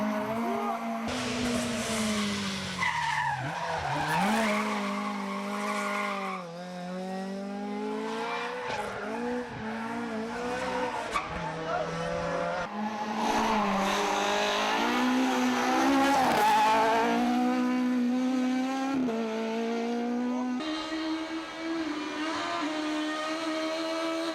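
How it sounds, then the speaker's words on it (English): A Datsun rally car, slowed by gearbox trouble, is thrown left and right across countryside asphalt, its engine revving and changing pitch continuously, with tire squeal and skidding. The sound is loud and close throughout, with no talk. "Not even gearbox trouble could prevent Jeffrey Elliott from swinging the Datsun left to right across the countryside asphalt."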